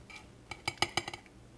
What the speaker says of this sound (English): I'm going to remove the salmon, place it in a plate, like that